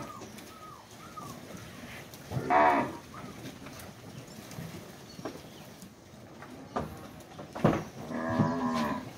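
Cattle in a corral during handling and weighing low and moo in several loud, drawn-out calls, some close and some farther off, with birds chirping and faint hoof clatter in between.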